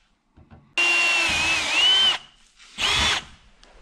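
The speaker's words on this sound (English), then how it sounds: "I'll come back with my 1/4 inch bit and finish these off" A power drill with a 1/4 inch bit bores holes while a dome light bracket goes onto a Polaris Ranger UTV, with one longer high whining burst of about 1.4 seconds followed by a shorter one, close and loud.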